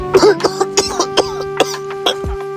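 Someone coughs repeatedly in short, rough bursts close by, a string of harsh hacks against a steady background hum.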